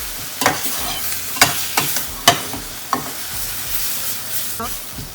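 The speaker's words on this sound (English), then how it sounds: "And spinach cooks really fast, just for that green color." Spinach sautéing in a hot pan, a loud sizzle broken by several sharp scraping stirs at uneven intervals, close and alone without speech.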